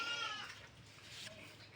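A goat on a small farm bleats once at the start, a short wavering cry, followed by quieter rustling background sound.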